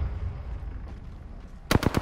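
A short burst of rapid automatic gunfire in Apex Legends breaks in near the end after a low, quiet rumble, with four or five sharp close shots in quick succession.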